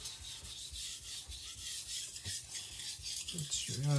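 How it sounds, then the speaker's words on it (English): A Shapton Pro 220 sharpening stone is scrubbed clean with steady, gritty back-and-forth rubbing strokes, close and continuous, ending with a few wet clinks. "Cleaning the stone just to ensure it's clean."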